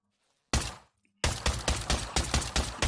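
Gunshots from a double-barrel gun in the VR shooter Pavlov: one loud blast, a pause, then a rapid run of seven or eight sharp, evenly spaced shots, close and without talk.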